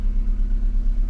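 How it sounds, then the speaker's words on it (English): A 1991 Honda Civic EF with an aftermarket race-style exhaust idles close by, a steady low rumble with a slight pulsing throb and no other sounds. "Race car exhaust."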